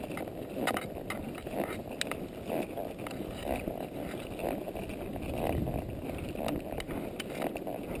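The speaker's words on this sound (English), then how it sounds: "The wind's blowing pretty strong." Strong wind blows steadily outdoors near a creek bed on a cool day, a broad rushing roar with buffeting gusts across the microphone, with no talking.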